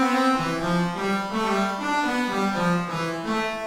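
A synth melody plays through reverb at its full default setting, completely wet, giving a loud, smeared run of notes whose attacks blur into a continuous washed-out tail, with no talking.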